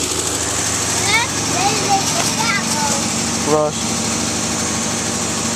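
A 1973 Dodge Dart Sport engine runs steadily with a possible misfire, a continuous low mechanical drone heard close up with faint clattering, while a person talks over it.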